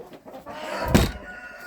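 A hen sits in a backyard coop, giving a short rising cluck or squawk at close range over quiet surroundings, one brief call in the middle.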